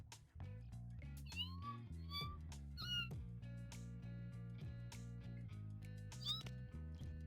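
A cat in the No More Heroes video game meows several times in short, high calls, heard alone over a quiet, steady musical background.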